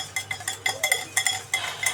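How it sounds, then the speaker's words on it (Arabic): A spoon stirring a mixture with vanilla in a pot, quick light scraping and clinking strokes in an uneven rhythm, close and fairly quiet. "ونبتدي بقى نقلب لغايه لما كله يدوب"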